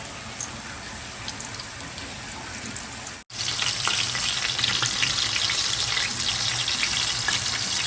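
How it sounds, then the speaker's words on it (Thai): Flour-coated mud crab and fish frying in oil over low heat, a dense continuous hiss and crackle close by, briefly cutting out near the middle then returning louder, with no voices. "เวลาเอาปลาลงชุบแป้งทอดอย่าใส่น้ำนะคะ"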